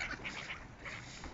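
Ducks quack repeatedly in bursts while being fed outdoors, close and fairly loud over a low rumbling background.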